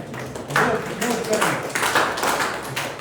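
Loud clapping from an audience at a school interactive session, building in bursts over a few seconds, with voices and chatter mixed in underneath.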